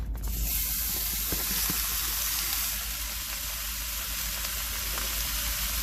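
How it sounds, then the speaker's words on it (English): Beef tri-tip sears in a preheated 5-quart cast iron Dutch oven, a steady broadband sizzle that holds loud and even throughout with no pauses and no voices. "we're going to go ahead and drop in our tri-tip"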